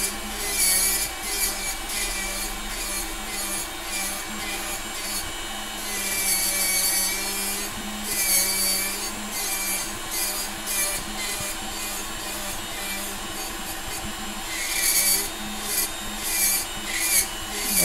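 A nail drill bit files gel off a fingernail with a continuous high whir and rhythmic rubbing rasps, close and steady throughout with no talk.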